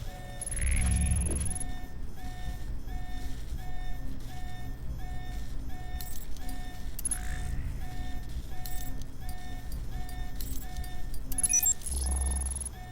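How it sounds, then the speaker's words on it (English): An electronic alarm in the Alpha Protocol video game beeps in a steady repeating pattern of high tones, joined by intermittent mechanical clicks and low rumbles in the background. "You need to shut off the alarm."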